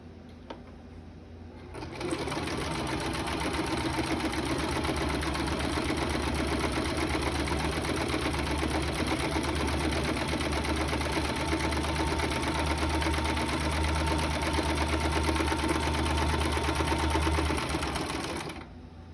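A sewing machine stitches together the curved edges of fabric mask quarters. After a brief quiet start it runs steadily and close up in a continuous rapid whir, with no pauses until it stops at the end.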